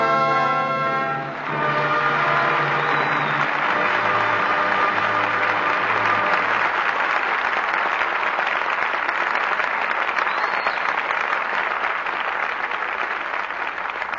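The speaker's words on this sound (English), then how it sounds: "your applause for tonight's performance calls our stars back to the footlights" A live studio audience at a radio theatre broadcast breaks into loud, sustained applause that swells over a closing music chord and keeps going as a dense wash of clapping.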